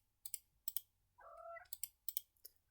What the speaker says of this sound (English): Sorry for my cat there.